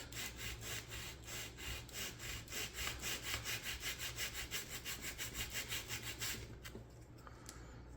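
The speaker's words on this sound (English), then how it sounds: "So we're going to sand that angle in." Sandpaper rubbed back and forth across the wood of a Model Shipways Norwegian sailing pram model boat to sand in an angle. Steady rhythmic strokes, close and fairly loud, continue for several seconds and then stop.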